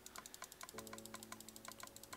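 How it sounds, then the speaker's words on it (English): Rapid, regular clicks from a mouse spam-clicking while playing Minecraft with Thaumcraft, close and crisp, about a dozen taps over a faint steady tone. "Come on, spam clicking, spam clicking."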